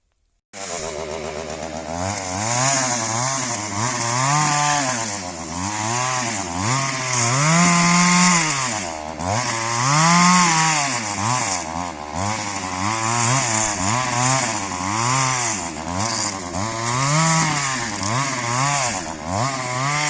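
A chainsaw runs loudly and steadily for about twenty seconds, its pitch rising and falling in repeated waves as it bites into wood.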